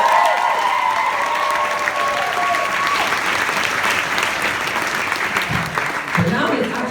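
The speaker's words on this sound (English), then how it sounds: "Quick round of applause for auntie." Quick round of applause for an auntie at a celebration in Portugal, dense energetic clapping from a gathered crowd with a few voices and light cheering mixed in.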